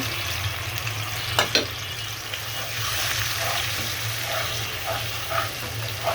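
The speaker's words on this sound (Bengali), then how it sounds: "এখানে আমি সব মশলাগুলো এখন দিয়ে দিচ্ছি" Spices tipped into a hot pan for a river pabda fish curry set off a steady, close sizzle, with a couple of sharp clicks or taps near the start and small crackles popping through the frying hiss.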